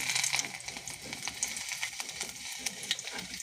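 Garlic dropped into hot oil with curry leaves, a steady, close crackling sizzle with bright spitting pops throughout, and no voices.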